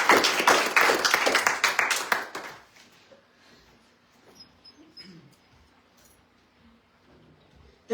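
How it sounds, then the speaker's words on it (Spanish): A church congregation applauding God during a service, a loud burst of many hands clapping that fades out after a couple of seconds into near silence with faint room sounds. "Denle un fuerte aplauso a Dios."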